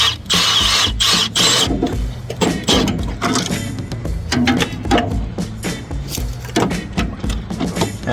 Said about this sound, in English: Try to do this with the drill instead of the driver